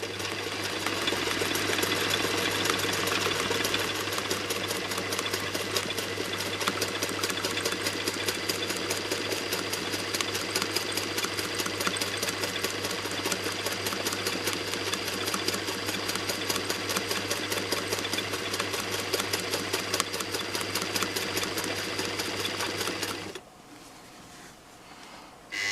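A sewing machine stitches a quilt in one long, continuous, rapid mechanical run, loud and close, before stopping abruptly near the end, leaving a quieter hum.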